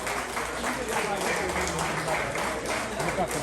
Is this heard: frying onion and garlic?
no